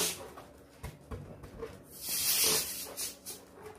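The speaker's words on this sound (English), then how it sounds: "first, always let some of the air out." Air hisses softly out of a latex decorating balloon, a faint breathy release that swells briefly in the middle, with no talking.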